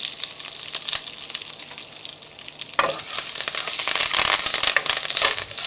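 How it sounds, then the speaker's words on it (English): Curry leaves frying in hot oil in a home kitchen, a steady crackling sizzle that grows louder and busier partway through, with stirring scrapes and no talk. "So we just want to fry them just a tad."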